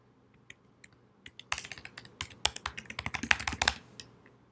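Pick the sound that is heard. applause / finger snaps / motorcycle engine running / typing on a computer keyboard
typing on a computer keyboard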